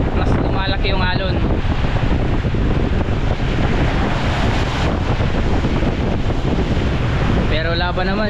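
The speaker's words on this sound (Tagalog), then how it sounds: "Kaya mas lumalaki yung alon." Large, building Pacific waves slosh and crash around a fishing boat while heavy wind buffets the microphone in a loud, continuous rush, with brief faint voices near the start and end.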